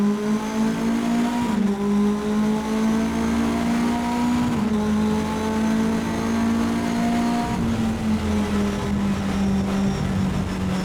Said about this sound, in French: Et je mets du gaz.